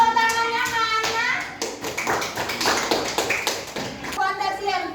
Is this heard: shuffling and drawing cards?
no